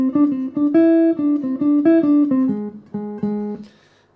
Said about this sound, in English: The solo begins with a long, beautiful linear phrase which sounds like this